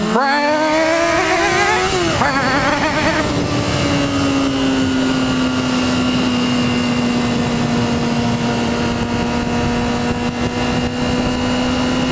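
A motorcycle in traffic revs hard, its engine note rising through two quick upshifts while it accelerates past a slow Honda Civic, then holds a steady, loud cruising drone with wind roar close to the rider.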